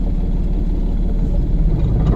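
A car engine runs close by with a low, steady mid-pitched hum as the clutch is eased toward its bite point, the note shifting only slightly across the short stretch.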